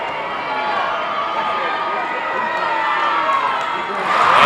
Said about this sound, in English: here comes the crowd. E-Town crowd on their feet now